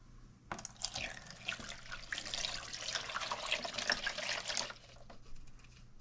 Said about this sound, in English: I usually just fill up a cup of water,